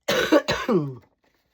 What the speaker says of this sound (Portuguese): quanto mais eu falo, mais tosse dá